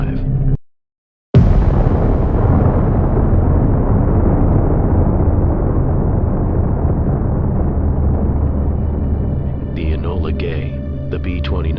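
A massive explosion booms after a brief silence, a deep sustained roar with heavy low-end rumble slowly fading over several seconds, with faint voices near the end.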